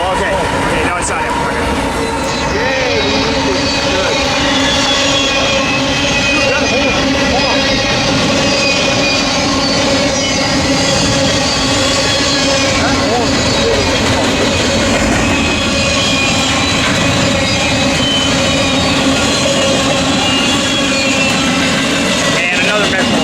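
A big freight train with an H1-9 locomotive rolls past at Commerce near Fullerton, loud and close, with continuous wheel rumble, clacking and metallic squeal throughout and voices talking over it.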